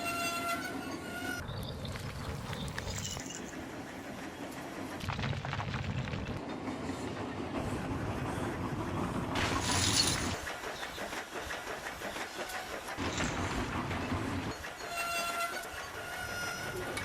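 Engine sound effects from the film Thomas and the Magic Railroad: a steady rolling rumble of a locomotive on rails, with rhythmic clatter and brief whistle-like bursts, heard alone and fairly loud throughout.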